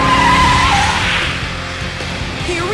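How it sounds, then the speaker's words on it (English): Tires on a cartoon racing car squeal loudly through a drift, a sustained high screech over revving engine noise that fades slightly toward the end. "Hero, drift now!"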